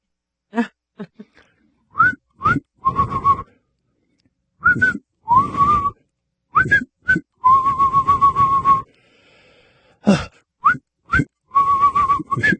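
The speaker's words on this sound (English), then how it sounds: "I'm going to whistle." Someone whistles nearby in short, uneven bursts and trills, stopping and starting, with a few sharp chirping notes among longer warbling phrases.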